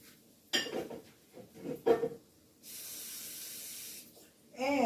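Vegan crab cakes are set into a frying pan with a few clattering knocks, then a steady frying hiss rises for a couple of seconds before fading, followed by a brief clink.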